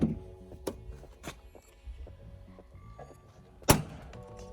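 The damaged door of a police car is opened, giving soft creaks and scrapes followed by a sharp loud clunk near the end, heard close in a quiet setting with no talk.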